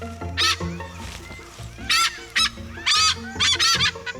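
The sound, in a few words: calls of birds with helmet-shaped bill casque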